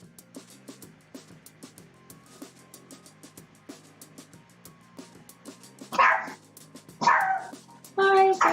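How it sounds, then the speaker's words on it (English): A dog barks somewhere nearby, three loud bursts of barking spaced about a second apart, heard over soft rhythmic background sounds. "Why is that dog barking?"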